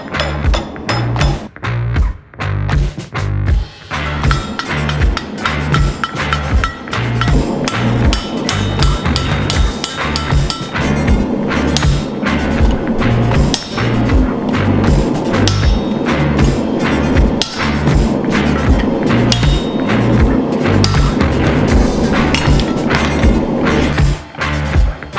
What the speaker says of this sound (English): Now we add the first bend into the round bar, and this gives us the rope dart shape that we need.